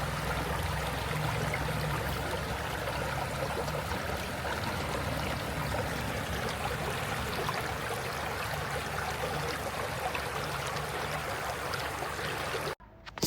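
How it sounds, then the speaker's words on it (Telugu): The Jampanna Vagu stream runs at low flow, giving a steady, continuous rushing trickle of water that holds evenly for about twelve seconds before cutting off abruptly. "వాటర్ ఫ్లో అయితే తక్కువ ఉంది అసలు."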